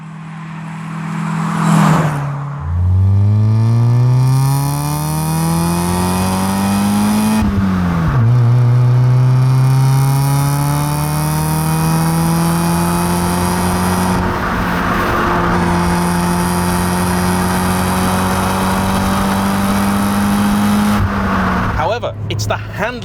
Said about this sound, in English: it's been fitted with the obligatory aftermarket exhaust, so it sounds far faster than it is